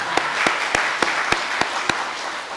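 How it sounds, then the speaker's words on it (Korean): Applause from a church congregation during a Sunday service, with a steady wash of clapping and a few sharper claps standing out at regular intervals, near and moderately loud. "박수해 주시기 바랍니다"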